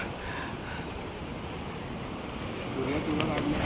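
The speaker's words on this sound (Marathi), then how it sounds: "लाट कशी येतात कोपऱ्यात बघा" Sea waves break and wash along a rocky corner of the shore during a monsoon-season fishing trip, a steady broadband surf roar with wind, swelling slightly louder toward the end.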